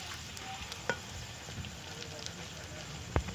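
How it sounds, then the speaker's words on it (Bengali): Chira luchi, flattened-rice puris, fry in hot oil in a wok with a steady soft sizzle. A few faint clicks of utensils cut through it. "তো আমরা চিড়ের লুচিগুলো ভেজে নিচ্ছি"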